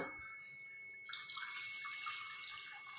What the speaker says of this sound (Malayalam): അടുപ്പ് കത്തിച്ചിട്ട് കുറച്ച് വെള്ളം നമ്മൾ ഒഴിച്ചു കൊടുക്കുക